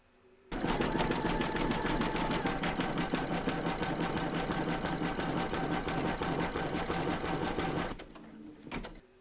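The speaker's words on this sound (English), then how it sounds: "We're now going to pop our hoop into our machine and stitch round number 5, and that's going to zigzag along here" An embroidery machine zigzag-stitches a large Statue of Liberty appliqué in the hoop, joining two segments with a loud, rapid, even mechanical chatter that starts abruptly, runs for about seven seconds close up, then stops.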